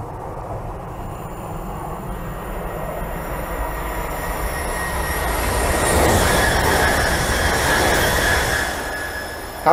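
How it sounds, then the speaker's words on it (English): A European high-speed train rushes past on its rail line, a steady loud roar with wheel and air noise swelling toward the middle and holding strong, no voices over it. "Very fast trains."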